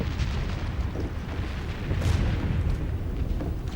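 Distant French artillery cannon fire rumbles as a continuous low boom, with a slightly heavier swell near the middle and no voices.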